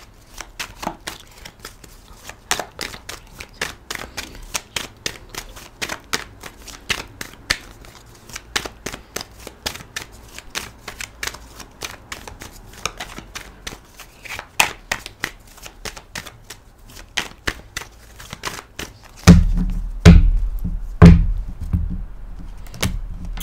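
A tarot deck is shuffled by hand in a long run of crisp, rhythmic card slaps and riffles, ending with heavier thumps as the deck is cut.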